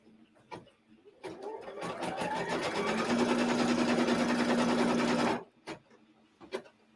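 Home sewing machine stitching a fabric seam, a loud steady mechanical whir lasting about four seconds, with a hum that rises in pitch, then stopping abruptly, with a few light handling clicks before and after.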